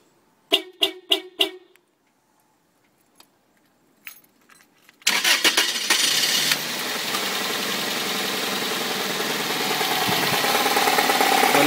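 Keys jingle in a few quick shakes. After a short quiet, a Toyota Celica GT 2000 engine cranks, fires and settles into a steady close idle, with a knocking fault underneath.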